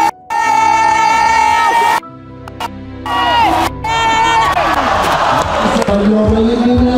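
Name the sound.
crowd cheering and applauding at Chamonix climbing competition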